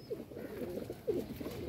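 Breeder pigeons coo softly in a couple of low, throaty bursts, close by, with no talking.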